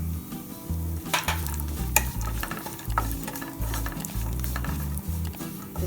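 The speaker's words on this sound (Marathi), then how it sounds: "एकदम लाल होईपर्यंत आपण भाजून घ्यायचं." Almonds, pistachios and cashews roasting in a pan for coconut rice: a steady, close sizzle and crackle with repeated stirring scrapes and rhythmic low knocks of a utensil against the pan, with no talking.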